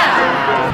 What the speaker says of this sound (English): You can probably still hear the crowd in the background.